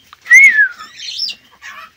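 A male bird calls up close with loud, clear whistled notes: a falling slide, then a warbling phrase and a short closing chirp.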